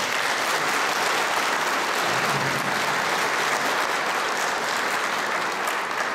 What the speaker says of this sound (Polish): Proszę o brawa.